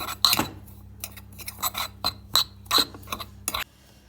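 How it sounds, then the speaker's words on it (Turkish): A spoon scraping and clinking against a pot while jam cookie mixture is stirred off the heat, a series of sharp irregular metallic taps and scrapes, close and fairly quiet. "böyle bir güzel biraz daha altı kapalı bir şekilde karıştırmaya devam ediyorum"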